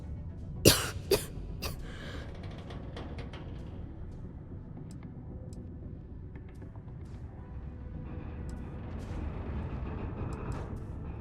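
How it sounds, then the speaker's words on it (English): A Starfield game character gives a few sharp, close coughs at the start, then a low ambient hum continues alone. "I've got this bad cough"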